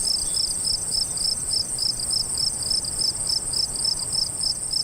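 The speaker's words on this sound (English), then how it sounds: "Cue crickets." Crickets chirping steadily, a dense, high, pulsing trill repeating in an even rhythm throughout, loud and unbroken over a quiet low background.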